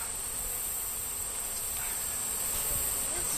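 Honeybees hum steadily around honeycomb in a hive being transferred, a dense, continuous buzz close to the microphone with no voices.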